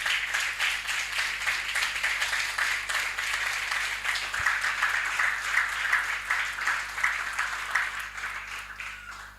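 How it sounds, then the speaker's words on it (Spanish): A church congregation gives a loud round of applause to the Lord, many hands clapping in a dense, sustained wash that rises and falls slightly over several seconds, with faint voices mixed in. "Dale un fuerte aplauso al Señor."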